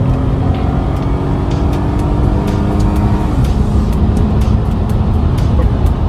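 A Dodge Journey with the 3.6 engine speeds up on an open road, a steady loud engine and road drone filling the cabin with a slowly rising tone throughout.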